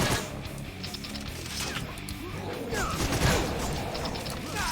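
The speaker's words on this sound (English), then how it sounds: "Oh, right, a bolt gun." Bolt gun weapon in the Painkiller: Hell & Damnation video game, a clattering mechanical action with ratcheting clicks and metallic knocks, repeating through dense game noise.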